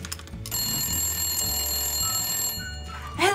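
A telephone rings after speed-dialing a stored number, a steady electronic ringing tone that holds for about two and a half seconds, close and fairly loud, then cuts off, followed by a short rising chirp.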